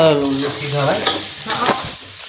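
Fresh turmeric roasts in ghee while being stirred, giving a close, bubbling sizzle with scraping strokes of a spoon through the pan; no talking.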